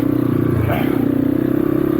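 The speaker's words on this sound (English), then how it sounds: "right off idle, this bike is just so grunty, more so than the 300" A GPX Moto FSE 250E dual sport motorcycle engine pulls off idle with a deep, steady chugging rumble close by, throbbing evenly throughout the short stretch.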